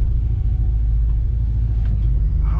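A modded Ford Mustang turbo idles with a constant low, heavy rumble, close and unbroken, with faint small noises over it toward the end.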